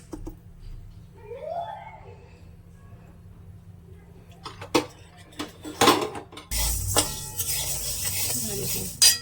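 Horse gram dry roasting in a hot pan on a low flame: a quiet start, then clinks and scrapes of a spoon against metal, building into a faint steady crackle, with a brief voice early on.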